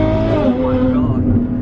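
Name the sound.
Ferrari F12 front-engine V12 car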